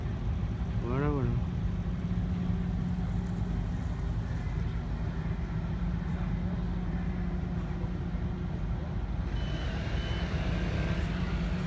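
Outside a church, France Télévisions broadcast trucks sound a short run of reversing beeps early on, fading into a constant engine hum and street noise that continues throughout.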